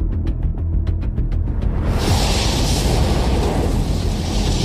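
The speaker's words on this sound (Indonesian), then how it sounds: "berusaha meledakkan para vampir menggunakan bom peledak ikan" In a vampire film, a fish bomb goes off: a rapid series of sharp cracks gives way to a loud, sustained roaring blast with rumbling debris, heard alone.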